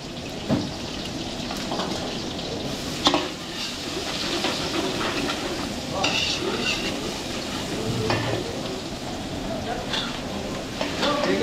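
Chop suey with plenty of onions being stir-fried in a pan for a catering job, giving a steady loud sizzle with repeated stirring and scraping of the utensil, while voices talk over it.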